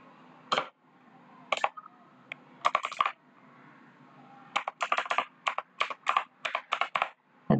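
Keys clatter on a computer keyboard as a username is typed at a PC, close and alone, in short bursts of quick clicks separated by pauses, with a dense run of rapid keystrokes toward the end.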